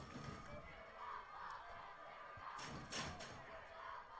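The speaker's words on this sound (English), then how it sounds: "Crowd is getting into it." Crowd at a high school football game between West Sioux and Central Lyon/George Little Rock, cheering and shouting from a distance with a swelling roar and a brief louder burst, under faint talk.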